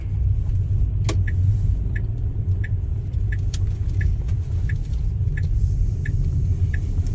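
Tesla car driving in city traffic while taking a left turn, a steady low road rumble running throughout with faint, regularly spaced high chimes ticking over it.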